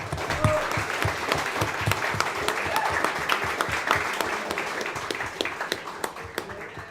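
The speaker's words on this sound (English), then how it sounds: "Can we give a round of applause to everybody out there that's fighting" A small audience applauds, a sustained stretch of steady, even hand clapping with distinct individual claps, moderately distant and without talk.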